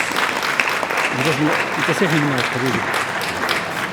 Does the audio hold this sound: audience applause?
yes